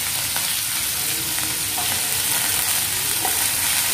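Cauliflower and beans frying in a hot pan for Kerala kozhukatta, a loud continuous sizzle with scraping stirring strokes throughout and no voices.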